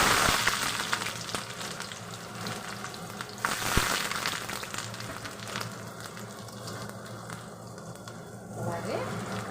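Chopped onion frying in a generous amount of oil in a pan, a steady close sizzle running throughout with occasional stirring noises.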